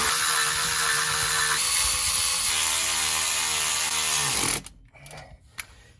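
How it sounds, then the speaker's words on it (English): A power tool or ratchet winds steadily on a differential bolt of an aftermarket front axle, a continuous whirring buzz that shifts pitch midway, then stops abruptly, leaving a few faint clicks and knocks. "Then tighten the diff bolt."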